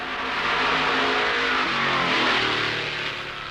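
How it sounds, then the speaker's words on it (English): A 1963 Ford NASCAR Grand National race car at Darlington Raceway revving during warm-up, a loud, rough engine roar that swells and sags in pitch, heard up close with no talking. "warms up his Ford,"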